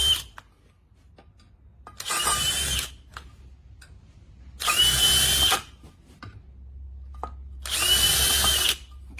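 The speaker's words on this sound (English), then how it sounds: "Do a little pre-drill," A power drill pre-drilling holes for a glass railing install whirs in three short bursts, each about a second long, separated by quiet pauses, close and loud.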